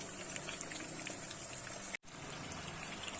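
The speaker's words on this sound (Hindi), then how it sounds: "चपटी कबाब हमारे ऑयल के अंदर फ्राई हो रहे हैं" Peshawari chapli kababs fry in oil with a dense, continuous bubbling sizzle that cuts out for a moment midway, then resumes at the same level.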